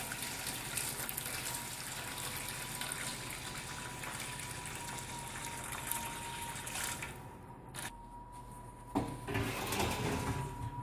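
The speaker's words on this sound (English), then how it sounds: "We're going to drain our potatoes, our mashed potatoes," Boiled potatoes for mashed potatoes are drained, with the starchy cooking water poured into a pot, making a soft, continuous gushing and splashing that breaks off briefly near the end.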